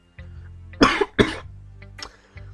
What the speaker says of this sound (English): Coughing is not gonna help my throat at all.